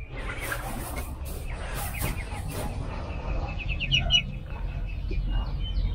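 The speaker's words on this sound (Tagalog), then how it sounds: "Ito na yung mga gansa namin, yun yung Peking duck." Geese and young Peking duck ducklings on a farm make scattered high chirps and clucking calls over a low rumbling background, fairly close, with irregular bursts of calling.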